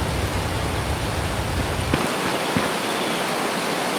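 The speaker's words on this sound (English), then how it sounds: "as you enter the cave, now you can notice slight bit of the filtering happening with the rain sound" Rain in an Unreal Engine 5 game with Wwise hisses steadily, then turns duller and thinner partway through as the player enters a cave, with a faint tap or two after.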